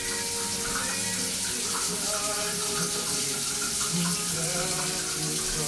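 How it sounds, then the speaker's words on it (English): Tap water runs steadily into a can, a continuous hiss of splashing and filling that stays loud and close throughout with no voices over it. "we're going to add a can and a half of water"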